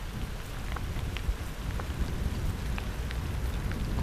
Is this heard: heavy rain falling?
yes